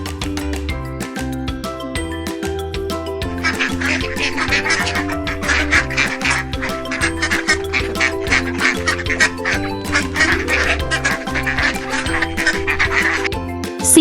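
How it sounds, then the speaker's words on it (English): A duck quacks repeatedly in quick, rhythmic bursts over a steady musical backing, fairly loud and close throughout. "Duck."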